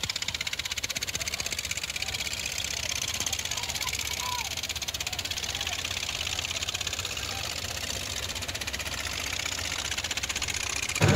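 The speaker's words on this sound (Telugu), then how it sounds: "మత్స్యకార టీంలు ఇంజిన్ బోట్లతో పోటీ పడ్డారు" Fishermen's engine-powered boats race on the Godavari River with a loud, continuous motor drone and chugging that stays steady throughout, with talk faintly mixed in.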